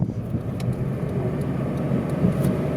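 Steady, low rumbling road and cabin noise from inside a 2011 Wheego LiFe electric car climbing a hill, a continuous, moderately loud drone with faint ticks and no talking.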